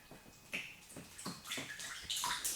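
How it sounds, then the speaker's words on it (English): Water drips in an old prison beneath a bridge, a run of separate close plinks at an irregular rhythm, faint room noise between them. "I know it's hard to hear with the drips."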